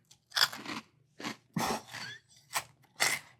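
Someone chews Fruity Pebbles Crunch'd cereal in five or six loud, close crunching bites separated by short pauses, with no voice over the chewing.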